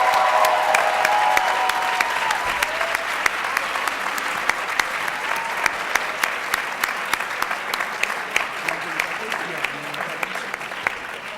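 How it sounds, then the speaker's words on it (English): Loud, sustained crowd applause at a student-faculty show, a thick continuous roar of clapping with scattered sharper claps and some crowd voices mixed in, tapering slightly toward the end. "Can we give a round of applause to Dr. Ava Kramer, please?"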